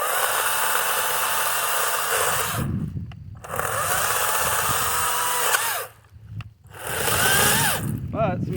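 A Kobalt 40V Max battery chainsaw cuts through cedar, a loud, close, whining buzz in long bursts broken by two short pauses when the saw eases off.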